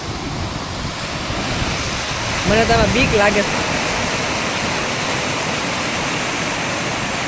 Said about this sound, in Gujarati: આ સાઈડ પાણી એટલું છે જો સામું દેખાતું છે અવાજ કેટલો આવે છે